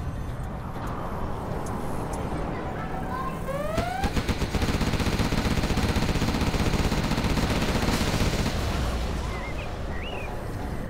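The Gatling cannon of an Overlord tank fires in the strategy game Command & Conquer Generals, with rapid sustained mechanical bursts and a few rising whine tones over a dense, loud battle din.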